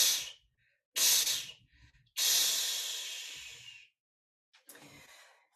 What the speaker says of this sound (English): We exhale.